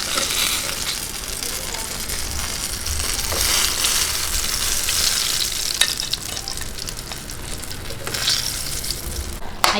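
Pork belly liempo fries in its own rendered fat with a loud, steady, close sizzle and crackle that continues throughout, with occasional pops and no talking.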